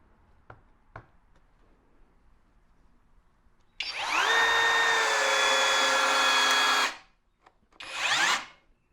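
Kobalt 24V right angle drill driving a screw on its lowest torque setting, a few faint taps and then a loud rising whine for about three seconds that stops abruptly, followed by one shorter burst.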